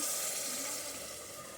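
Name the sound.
hot water poured into sizzling chicken curry pan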